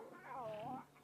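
Lion cubs whining over a fresh kill by lionesses, a single short, wavering high-pitched cry, fairly close and alone.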